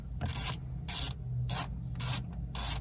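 A wrench ratchets in five short, even bursts to remove a stereo bolt inside a 2012-2015 Lexus RX350 dash, a quick rasping clatter each time with brief pauses between, quiet and close.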